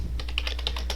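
A quick run of keystrokes on a computer keyboard while a gpupdate command is entered at a command prompt, close and crisp clicks in an even rhythm with no talking.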